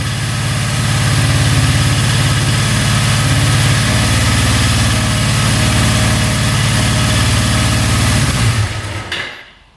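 A cheap used motorcycle engine idles steadily while warming up, burning off oil that was poured into the cylinder. The loud, even idle runs near and uninterrupted for about nine seconds, then cuts off abruptly at the end.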